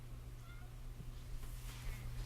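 A pet cat named Squealer meowing softly at close range against a low steady hum, a brief faint vocal sound in a quiet room.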